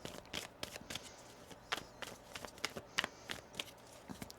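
Tarot cards being shuffled up close, with repeated quick riffling bursts and soft slaps in an irregular rhythm, fairly quiet.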